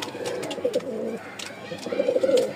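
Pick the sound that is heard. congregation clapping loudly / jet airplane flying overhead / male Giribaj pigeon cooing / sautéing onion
male Giribaj pigeon cooing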